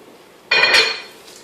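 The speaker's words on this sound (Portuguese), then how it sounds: "Vamos abrir aqui a panela." A metal lid lifts off a pot of chicken rice with one sharp clank and rattle, followed by a short fading ring. The sound is close and loud.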